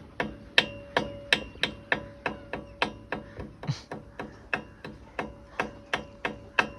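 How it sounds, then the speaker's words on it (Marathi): Scissors snip through hair during a haircut, a close, steady rhythm of crisp clicks about two or three per second, with a brief vocal sound partway through. "कातरच ठोकायला सुरू केली आता"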